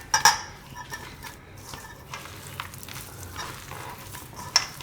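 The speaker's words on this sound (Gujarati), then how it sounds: "તો આમાં ભેગા સાબુદાણા મિક્સ કરી લેવું આપણે આ રીતે." Sabudana stirred into boiled potatoes in a pot, with a spoon scraping and clinking against the vessel in a few sharp knocks over soft, continuous mixing.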